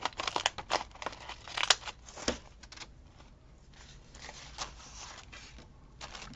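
Scissors snip and crinkle through a floral wax paper bag with a run of crisp, close cuts, busiest early on and then thinning to lighter papery rustles.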